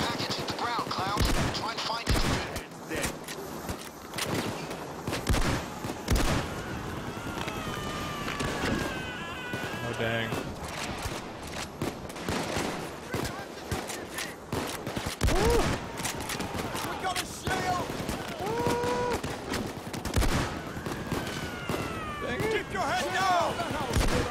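Gunfire in the video game Payday 2, with rapid bursts and single shots cracking repeatedly across the whole stretch, mixed with game effects and a player talking over the action.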